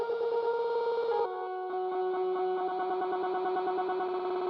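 A tremolo effect pedal chops a sustained electric tone into rapid pulses, the choppiness shifting speed partway through, steady and clear with no voices.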